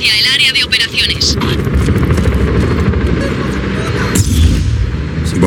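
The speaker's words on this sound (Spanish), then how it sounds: "Helicóptero aproximándose." A helicopter approaches with a loud, constant rotor thrum and whine dominating the scene, growing heavier near the end, while a voice talks over it.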